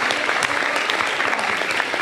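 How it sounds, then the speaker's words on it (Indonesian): Students in an audience with Pope Francis break into loud, close applause, a dense burst of many hands clapping that lasts about two seconds. "Tepuk tangan."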